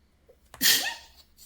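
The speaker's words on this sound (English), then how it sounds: "Was that a sneeze?" One sharp, close sneeze bursts out after a quick intake of breath during a tabletop card game, then trails off into quiet.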